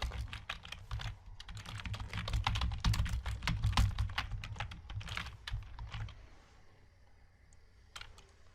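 Rapid clicking keystrokes on a computer keyboard as Python code is entered, a dense run of close taps for about six seconds that then thins to a few scattered presses.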